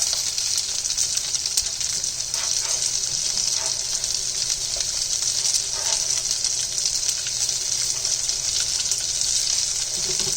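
Green chilies, ginger julienne, onions and curry leaves frying in hot oil, a steady loud sizzle with bright crackling and spitting that holds evenly throughout, no talk.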